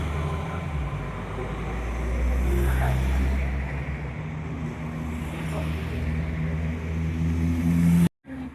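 A Great Western Railway rail replacement bus (YX21 RYG) bound for Exeter St David's idles and rumbles nearby with a steady low engine drone, swelling slightly midway before cutting off near the end.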